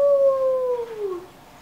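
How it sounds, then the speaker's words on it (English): A puppy lets out a single clear, drawn-out howl that slides downward in pitch and fades over about a second and a half, heard alone and fairly close. "Puppy's howling woke up Pip the mouse"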